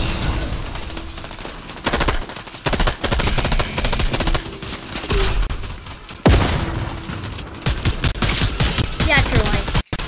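Gunfire in the video game Fortnite, including a charge shotgun, pops in rapid, loud bursts of sharp blasts with short pauses between them, close and dense over the whole stretch.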